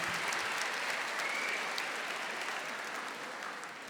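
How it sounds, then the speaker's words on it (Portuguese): Congregation applauding at a Catholic Mass led by a priest, a dense, steady clapping that fills the church and fades slightly toward the end. "Aplauda esse seu irmão aí."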